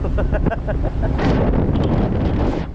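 Loud gusty wind roars across the microphone aboard a moving boat loaded with stone, a rushing blustery noise that swells and dips, with faint voice-like sounds near the start.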